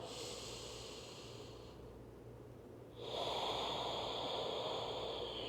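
Slow, audible breaths during an advanced yoga class, a long soft exhale followed by a brief pause and then a louder, rushing inhale, close and alone with no speech.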